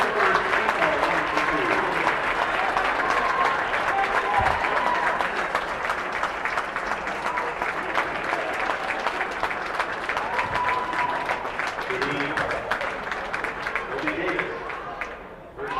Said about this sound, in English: And the applause for senior Austin Huyanen.